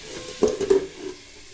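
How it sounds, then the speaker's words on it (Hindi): Vegetables frying in a pan just after tempering, with a soft sizzle broken by a few brief stirring scrapes near the middle, close and fairly quiet, with no talk. "तो सब्ज़ी को मैंने तड़का लगा लिया है।"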